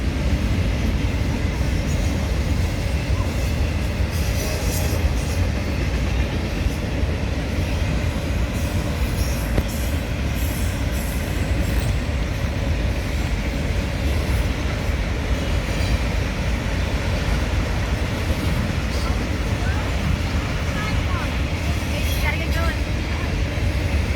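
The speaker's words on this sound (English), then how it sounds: "The train's not passed yet." A Norfolk Southern autorack freight train rolls steadily past close by, its wheels rumbling continuously with occasional squeals and clicks over the rails for the whole stretch.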